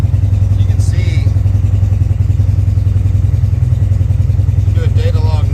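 A steady low engine idle from a Polaris RZR side-by-side UTV rumbles continuously throughout, loud and close, with a faint higher whine drifting in briefly.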